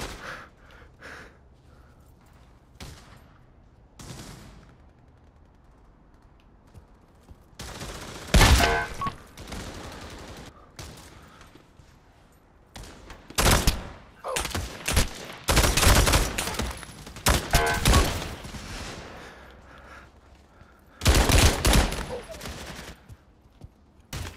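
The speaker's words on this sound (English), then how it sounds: "I shot him in the throat" Gunfire in the VR shooter Pavlov, sharp loud bursts of automatic fire in scattered clusters between quieter stretches, with a player's breathing and gasps audible in the lulls.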